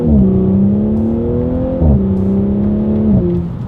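A 2020 Audi S4 pulls away from a standstill, its engine note climbing loudly with quick paddle-shifted upshifts, each gear change a brief dip before the pitch rises again, heard from inside the car.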